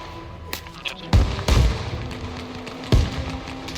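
Grenades explode in ARMA Reforger: three or four sharp, booming blasts land at uneven intervals over a few seconds, with a faint crack before them and low rumbling between.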